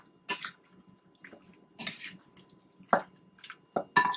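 Fermenting mango mixture being stirred, giving wet, squelching sloshes and clinks in several short bursts at close range, with brief quiet gaps between the strokes.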